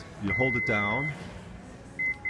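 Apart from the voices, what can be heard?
Toyota power liftgate confirmation beeps during reset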